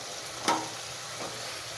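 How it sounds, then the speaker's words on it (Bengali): Spice paste sizzling in a pan while being stir-fried for a gulsha fish curry with pointed gourd and tomato, a steady hiss with one sharp scrape of a spatula. "মশলাটাকে আর কষিয়ে নেব"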